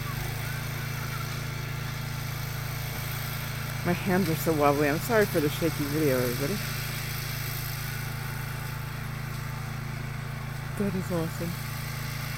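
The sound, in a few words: tractor engine running while pulling a Gator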